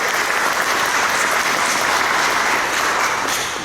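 A church congregation applauds during a sermon, a steady wash of dense clapping from many hands continuing throughout and tapering slightly at the end.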